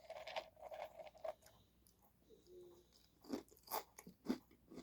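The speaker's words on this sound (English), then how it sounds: "That's such a satisfying crunch." Dry Carmella Creeper cereal from General Mills is crunched and chewed close to the mic, giving a run of crisp, irregular bites that come loud and near, with a quieter pause in the middle of the clip.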